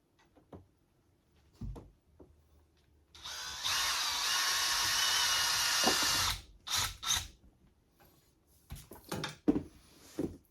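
A power drill drives a screw into a cat shelf in one continuous whirring burst of about three seconds, close up, framed by clicks, knocks and handling noises before and after.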